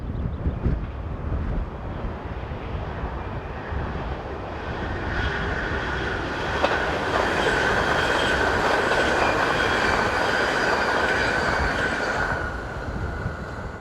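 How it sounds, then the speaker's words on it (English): A six-car IRM electric multiple unit heading north on a classic Dutch route near flood defence gates and a road overbridge passes by steadily, a broad rumbling roar with a rising whine that swells mid-clip and fades toward the end. "old classic route is seen here as a 6-car IRM unit number 8743 heads north with the 1436 from Vlissingen to Amsterdam"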